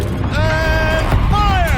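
A turret rotating in Horizon Zero Dawn gives a short mechanical whirring creak with rising and falling whine tones, close and steady over a low rumble.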